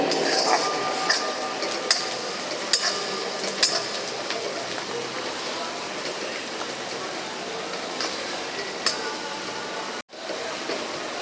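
Onion frying in a pan for green chicken gravy gives a dense, rain-like crackling sizzle, punctuated by occasional light clinks of a utensil against the pan, with a brief dropout near the end.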